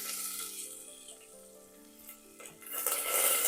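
Onions and green chillies fry in a hot pan with a steady close sizzle that eases slightly midway, then swells louder and brighter toward the end. No one speaks.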